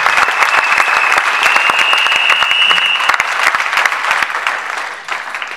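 A church congregation claps loudly and steadily, dense applause sustained close up and fading slightly toward the end, with a faint tone running beneath for the first few seconds.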